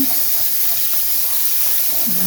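Water running from a kitchen tap while lemonade is made, a steady, close, loud rushing hiss that holds evenly throughout with no pauses.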